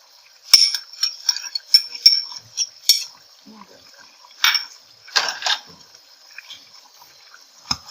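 Chicken achari handi with lemon juice and masala is mixed in a pot, the spoon clinking and scraping against the metal in quick, irregular bursts with short quiet gaps between, close and fairly clear.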